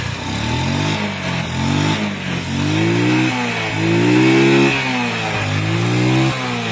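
STX125 motorcycle engine running after a CDI conversion, idling loud and close with repeated rising and falling revs as the throttle is blipped several times.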